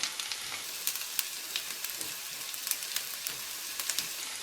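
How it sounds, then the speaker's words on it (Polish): Onion frying in butter until golden in a pan, a steady close sizzle with dense crackling pops that holds evenly throughout without any voices. "Na masło wrzucam cebulę i będę ją smażyła, aż się zezłoci."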